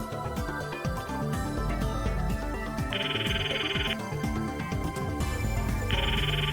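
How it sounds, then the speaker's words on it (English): A phone rings in the visual novel game Steins;Gate, two repeated electronic ring tones sounding over busy game music. "Phone rings."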